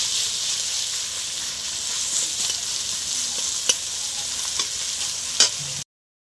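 Chopped onions fry in hot oil with green chilli, cardamom and black pepper, giving a steady, loud, close sizzle with a few sharp clicks of stirring, alone without talk.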